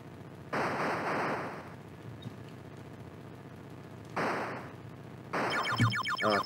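Bursts of gunfire in an Atari 2600 video game, three short clusters of rapid electronic shots separated by gaps of quiet background noise, with a buzzy tonal effect in the last burst.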